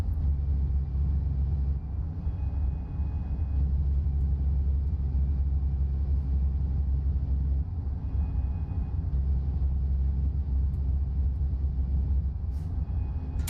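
A Peterbilt 389 truck engine in American Truck Simulator drones with a steady, heavy low rumble that stays loud and even throughout, with little change in pitch or level.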